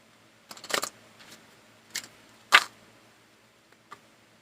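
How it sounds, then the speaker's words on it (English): Tarot cards are shuffled in a few quick riffling bursts separated by short pauses, close and fairly quiet, with no talking. "This shuffle didn't even click together."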